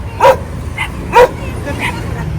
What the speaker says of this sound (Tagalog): Ang dami mong aso.